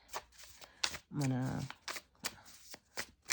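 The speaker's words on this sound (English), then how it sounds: "I'm sorry if the shuffling is really loud." Tarot cards shuffled in quick rustling, riffling bursts spread through the clip, with a voice talking over and between them.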